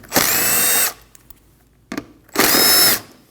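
A power drill or impact driver spinning out two 8mm bolts holding the fender liner on a 2013-2019 Ford Escape, two loud high whirring bursts about a second apart, close up, with a short tap between.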